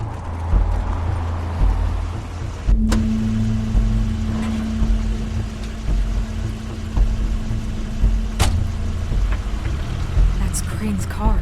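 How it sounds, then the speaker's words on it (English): Crane's car arrives as a low, rumbling vehicle sound, with a steady hum beginning partway through and a few sharp knocks, heard beneath people talking. "That's Crane's car."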